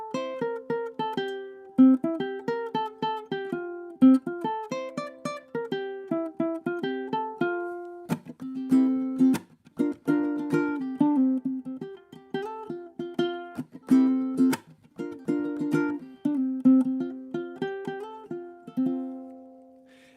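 Solo ukulele plucks a cheerful melody in F, a bright run of clear single notes and occasional strummed chords, close and unaccompanied for about twenty seconds.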